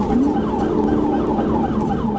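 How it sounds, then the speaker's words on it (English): Police sirens wailing loud and close during a high-speed car chase, the rising and falling tone repeating continuously over engine rumble. "As sirens blared"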